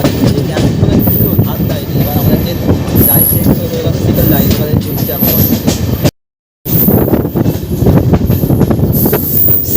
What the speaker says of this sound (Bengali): সেকেন্ড লাইনে আমাদের ট্রেন ঢুকে গেল।